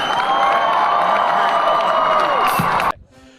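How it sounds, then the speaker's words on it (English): Audience applause and cheering from a crowd at a fan convention talk, loud and dense with whoops, sustained steadily and then cut off abruptly near the end. "One more big round of applause."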